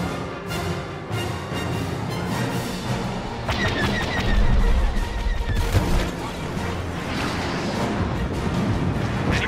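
Blaster fire and explosions rattle through a Star Wars Battlefront Walker Assault battle as Imperial forces fire on a GR-75 transport, a dense, continuous barrage of loud cracks and booms with no pauses.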